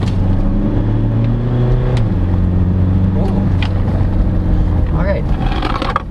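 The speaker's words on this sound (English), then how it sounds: "So finally driving a Montero Sport with the 8-speed automatic. So there's no driving modes, just floor it." A 2017 Mitsubishi Montero Sport with an 8-speed automatic accelerates at full throttle, its engine roaring loud and close. Engine pitch climbs through each gear, and a clear shift drops it near the two-second mark.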